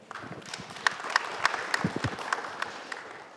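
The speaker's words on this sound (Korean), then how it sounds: "큰 박수로 맞이해 주시기 바랍니다." A panel debate audience in a hall claps to welcome a speaker, steady moderate applause with a few sharper individual claps standing out, fairly close and without talk.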